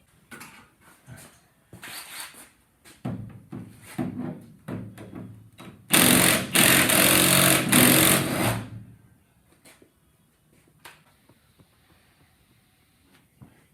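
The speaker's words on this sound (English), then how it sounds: "I'm going to pull the shock bolts off." A power tool loosens the shock absorber bolts on a rusted Mustang during rear end removal, a loud buzzing three-second burst following scattered clanks and knocks, then quieter handling noises, with no voices.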